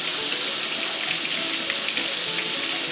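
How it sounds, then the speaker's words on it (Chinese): Eggplant being washed under a running kitchen tap, a steady close hiss of flowing water splashing over the vegetable in a sink, continuous and loud with no talking. "现在把茄子洗干净"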